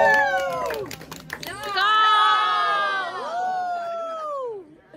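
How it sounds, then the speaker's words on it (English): A food tour group in Reykjavik bursts into clapping and loud whooping cheers, with bright sustained vocal shouts rising and falling over a brief patter of hands that fades out. "Give yourselves a round of applause."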